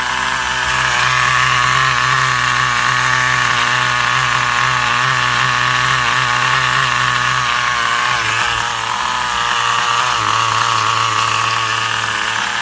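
A Duratrax Overdrive ST 4WD nitro RC truck's small nitro engine runs steadily and loudly up close, a buzzing, slightly uneven idle that holds throughout with no talking.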